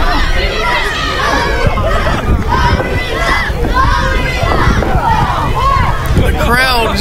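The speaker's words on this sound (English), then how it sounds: "The crowd is getting into it," Wrestling crowd at a UWE Huckamania show chanting for wrestler Rika Wildlee, a dense continuous hubbub of many voices filling the hall at steady loudness throughout.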